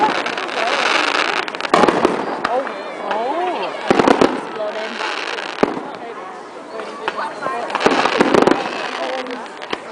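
Fireworks at a Family Day celebration burst in repeated sharp bangs and crackling volleys at several moments, fairly close, while people chat and shout throughout.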